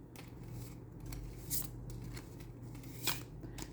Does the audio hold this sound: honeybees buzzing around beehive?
no